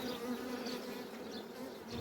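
Low, steady buzzing of many honeybees close by at an open hive, a continuous droning hum with faint wingbeat flutters rising and falling.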